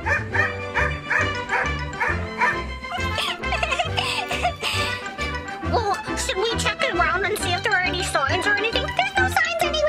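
A dog barks and whimpers in repeated yips, loud against a busy background of music-like tones and voices, with the barking running throughout.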